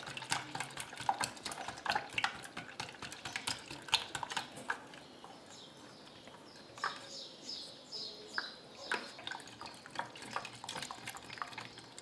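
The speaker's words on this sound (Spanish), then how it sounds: "ahora voy a batir muy bien los huevos" Whole eggs beaten briskly in a bowl for a cream filling, giving a close, fast and steady rhythmic clicking and tapping that runs throughout at moderate loudness, with birds faintly audible in the background and no talking.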